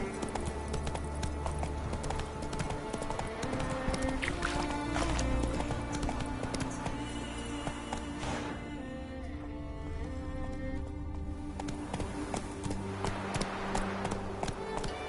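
Horse hooves clip-clopping at a run in The Witcher 3: Wild Hunt, a continuous rhythmic pounding under a dense wash of game music and ambience throughout.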